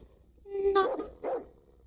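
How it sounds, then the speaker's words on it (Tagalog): A dog barks twice in a short, moderately close burst, the first bark longer with a slight whine to it and the second clipped, set against faint background noise. "Taul aso yo, tata."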